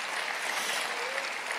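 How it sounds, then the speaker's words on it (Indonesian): A youth church congregation at an AOG Youth service claps in a dense, steady wash of applause that fills the room without a break. "Oke, kasih tepuk tangan dulu."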